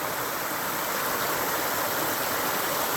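Water rushing through a large gully beside an unstable bank on its way to the ocean, a steady, dense, loud roar of flowing water with no breaks.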